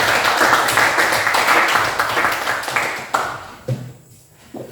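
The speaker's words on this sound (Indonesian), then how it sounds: "berarti saya kembali tepuk tangan atau apresiasi" Audience clapping during a presentation in a classroom or seminar, a dense patter of hands that tapers off, leaving a few scattered claps and faint noises near the end.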